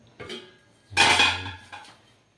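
A cooking pan clatters and clanks while being handled during cooking of salted milkfish: a light knock, then a louder, longer metallic rattle, then a short final clink, close by with no talk.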